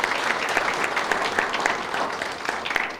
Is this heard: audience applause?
yes